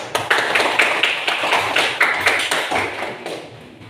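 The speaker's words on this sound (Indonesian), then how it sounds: "Tepuk tangan untuk Viva." Students in a classroom clap for a classmate, sharp, rhythmic claps in a steady beat of roughly four per second that gradually soften and thin out toward the end.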